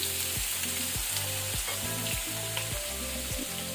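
Malai paneer shallow-fries in butter over a low flame with a loud, dense sizzle. A regular rhythm of low, repeating tonal thumps runs underneath, and no one speaks.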